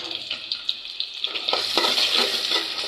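Chopped onions hit hot oil in a pan for a chicken gizzard, liver, wing and feet bhuna, giving a steady close crackling sizzle that swells louder partway through, with a few scraping stirs.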